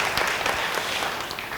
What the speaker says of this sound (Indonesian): Sekali lagi, beri tepuk tangan bagi dia.